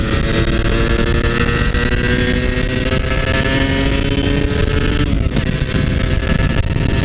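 A Kawasaki KR150 motorcycle engine revs continuously while being ridden, loud and close, with the pitch climbing steadily and a brief dip near the end.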